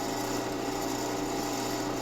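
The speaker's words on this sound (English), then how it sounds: "let the drill bit do the work" A power drill bores into a coffee table mounting bracket with steady pressure, giving a continuous, even whir with no breaks across the whole stretch and no talking.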